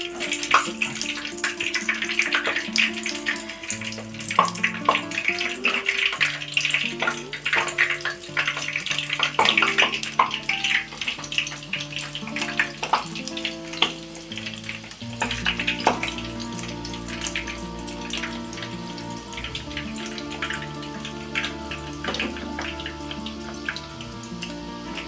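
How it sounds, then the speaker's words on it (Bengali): Paneer malai kofta balls deep-frying one at a time in hot oil produce a sustained bubbling, watery crackle, with steady tonal background music running beneath. "দেখুন এবার তেলটা কিন্তু গরম হয়ে গেছে, আমি এবার একটা একটা করে কোপ্তা ভেজে নেব।"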